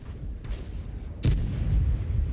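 A Leopard 1 tank cannon fires in a video game: a faint distant shot comes first, then a loud, close, deep boom whose heavy rumble lingers afterward.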